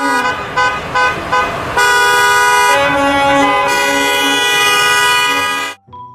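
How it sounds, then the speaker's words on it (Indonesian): A toy school bus honks its horn loudly several times in short bursts, then gives one long sustained blast before stopping suddenly. "Mobil bus sekolah."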